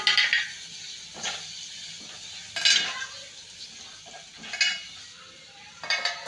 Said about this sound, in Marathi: आता सर्व वांगे घालून परत एकदा परतून घेऊ